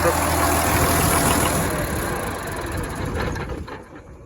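A 2006 tractor's diesel engine idles steadily with a broad, rough rumble, loud and close, then eases slightly toward the end as it nears shutdown. No one speaks.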